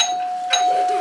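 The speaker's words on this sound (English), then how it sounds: "Quit ringing the doorbell." A doorbell rings once, fairly close, with a steady sustained chime tone that carries through the whole moment over faint background noise.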